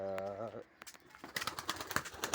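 Birds chirp and coo close by while a person talks briefly at the start.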